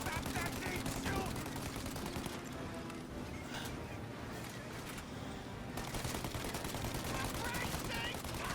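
Dense bursts of automatic gunfire and rapid shots in Mafia Definitive Edition, loud and continuous through a firefight, with a brief lull in the middle and shouted voices mixed in.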